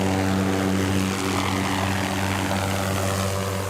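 Police helicopter over Columbus, a loud steady rotor and engine drone with strong low humming tones, continuous and close throughout with no talk.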